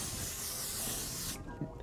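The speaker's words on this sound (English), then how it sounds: "Grab that setting spray again." Makeup setting spray misted from a pump bottle in a steady hiss lasting over a second, close and fairly loud, then cutting off into quiet.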